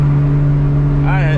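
A 1000-horsepower MKIV Toyota Supra pulls hard from inside the cabin, its loud, steady engine drone holding a constant pitch before a rising sweep of revs near the end.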